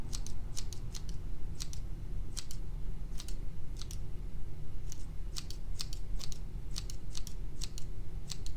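Scissors snip hair in a salon-style trim, with crisp, close metallic cuts coming in quick pairs and small clusters at an irregular pace over a steady low hiss.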